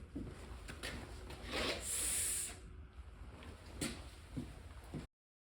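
Hand sanding on a VW T3 panel van's bodywork, rough rasping strokes scratching back and forth up close, with one longer hissing stretch in the middle.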